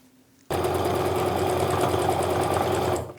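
A sewing machine stitching fat quarter quilt seams starts abruptly and runs at a steady fast whir with rapid needle clatter, close and loud, then stops near the end.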